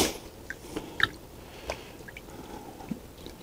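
Silicone being mixed with dish soap by hand, producing soft wet squishes and sticky clicks at irregular intervals, close and fairly quiet, with no speech.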